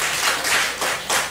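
A church congregation in Cheongju, South Korea, claps during a Sunday service in several uneven bursts, broadband and fairly loud, swelling and fading over a second or so with no voices.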